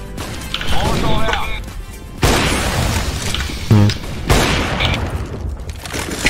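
A flashbang grenade in CS:GO goes off with sharp, loud booms, several abrupt bangs spaced across the stretch amid game noise, with a voice talking in between.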